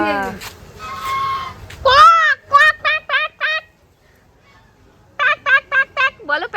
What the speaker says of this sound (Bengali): হাঁস দেখাতে দেখে আসি কোথায় হাঁস মুরগি